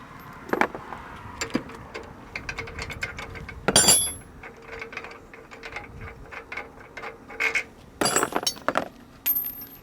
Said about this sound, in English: To access the top, we'll use a 3/4 inch either end wrench or ratchet. I'm going to loosen bolts and flip the top open.